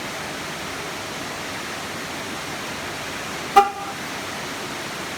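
A single short horn chirp from a 2002 Chevy Silverado locking through a Viper smartphone remote app, sharp and brief against a steady outdoor hiss, otherwise quiet.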